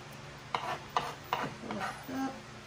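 Salsa ingredients being stirred in a bowl, a few soft, close scraping strokes in a quiet kitchen.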